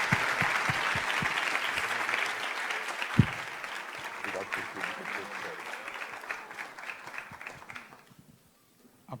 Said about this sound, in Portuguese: uma grande, grande salva de palmas